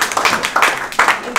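An audience at a book launch for poetry and stories in Chandigarh applauds, with a burst of close, uneven hand claps that keep pulsing through the short moment.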